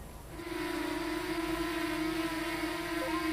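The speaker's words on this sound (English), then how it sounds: "The motors give off a characteristic screech that sounds like this." A steady high-pitched FPV drone motor whine holds at a constant pitch throughout, loud and continuous with no voices.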